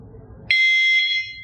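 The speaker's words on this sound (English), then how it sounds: "once I stop, the collar will start to beep every 2 seconds" A single sharp electronic beep from a remote dog training beeper collar, loud and close, sounding once and then holding for about a second.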